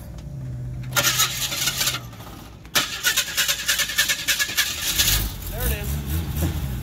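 Off-road car engine cranking and catching again after its fuel cut out on a hard bump, a brief starter whir followed by a rough rhythmic idle and revving, close by with people talking.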